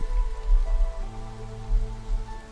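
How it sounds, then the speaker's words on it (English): Light drizzle falls in the Against the Storm strategy game, a soft continuous patter under steady low tonal game music, with no voices. "It's the start of drizzle."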